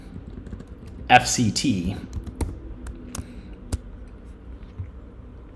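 Scattered clicks of typing on a computer keyboard, a few sharp, isolated keystrokes following a short burst of talk, then quiet between taps.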